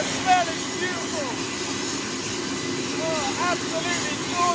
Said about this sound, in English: Right now she's running on the APU.